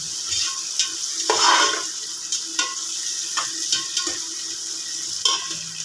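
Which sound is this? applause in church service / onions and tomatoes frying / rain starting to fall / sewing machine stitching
onions and tomatoes frying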